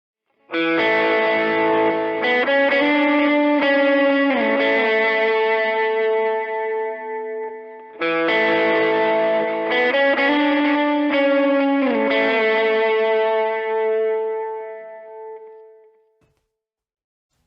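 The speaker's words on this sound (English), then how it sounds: "we're going to be having our delay, reverb, and overdrive on, and we'll play a line that sounds like this" An electric guitar plays the same short overdriven phrase twice, each note echoing with delay and a reverb wash that rings out before fading to silence.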